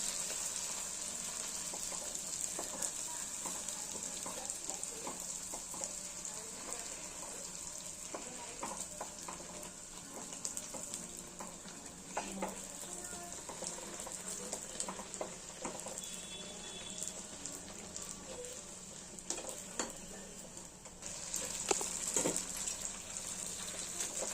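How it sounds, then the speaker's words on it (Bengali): Puffed, ball-shaped kachori bubble in hot oil with a steady, moderately loud crackling sizzle and occasional light stirring clinks throughout. "আমরা কচুরিগুলো ঠিক এইভাবে ভেজে নেবো"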